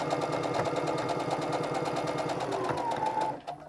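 Close, steady hum and rapid needle patter of a sewing machine stitching the thumb of mittens made from an upcycled sweater, running continuously until it stops abruptly just before the end.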